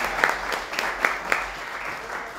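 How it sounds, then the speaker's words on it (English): Applause at a paranormal festival as a speaker thanks the organizers, scattered claps with a few sharp ones standing out, fading toward the end. "Just want to give a round of applause for this whole event"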